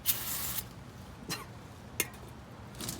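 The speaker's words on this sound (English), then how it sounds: "Got some degreaser spray." Degreaser spray hisses from a can in a short close burst, followed by a few faint brief puffs or taps in a quiet setting.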